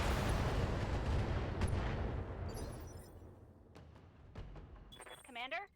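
Artillery barrage in the BattleTech video game: a dense, loud roar of blasts at the start fades into scattered sharp impacts, with a voice heard briefly near the end.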